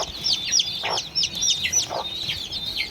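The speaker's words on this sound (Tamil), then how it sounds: "நம்மளுடைய கோழிகள்லாம் பாருங்கள் எவ்வளோ கோழிகள் நம்மள்கிட்ட இருக்குது" Many free-range country chickens cluck and chirp together nearby in a busy, continuous chatter while eating, with occasional soft pecking thuds.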